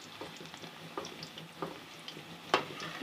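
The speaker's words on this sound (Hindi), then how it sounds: "पकोड़े फ्राई करके निकाल लिए हैं और बाकी यहाँ पे हो रहे हैं फ्राई" Pakoras deep-frying in a pan of hot oil, giving a steady soft sizzle with occasional sharper pops and crackles, heard alone with no talking.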